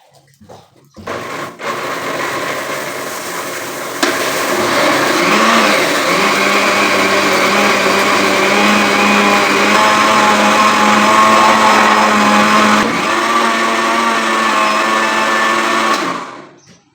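A blender grinds raw mango loudly and continuously for about fifteen seconds, its motor whirring at a steady high pitch before cutting off.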